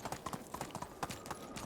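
Rapid clopping of a horse in iron horseshoes galloping across open ground in Medieval Dynasty, with a brisk, repeated hoof rhythm heard up close over a faint ambient wash.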